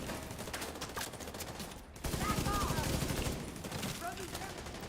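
Rapid automatic gunfire rattles in dense bursts while lamps are shot out in a video game, the firing loud and continuous with speech layered over it.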